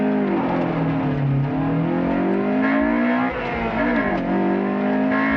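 A Honda VTEC engine launches hard from about 5000 RPM and pulls up through the revs with a loud, rising engine note. It briefly drops at a gear change, then climbs again.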